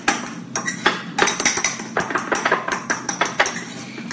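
Grated cauliflower, egg, salt and cracked pepper being mixed in a bowl, with a utensil clinking and scraping against the bowl in a quick, steady rhythm of close, sharp taps.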